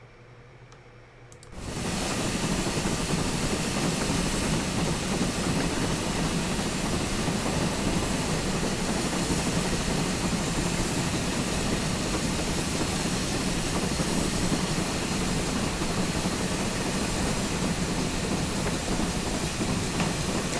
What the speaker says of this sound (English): I'm actually going to turn the train sim volume back up a little bit because I want to hear the thrash.